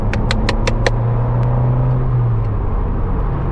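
A Ford Fiesta Zetec S with a loud new exhaust accelerates hard, giving a steady, close engine drone that rises slightly in pitch, with a few sharp clicks near the start.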